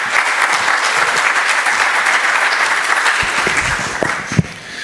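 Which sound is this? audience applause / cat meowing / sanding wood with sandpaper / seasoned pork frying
audience applause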